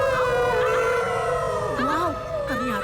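Cartoon PAW Patrol dogs howl through a megaphone at a rock concert, with voices imitating long wavering howls that rise and bend, loud, amplified and sustained, with overlapping tones sliding up and down.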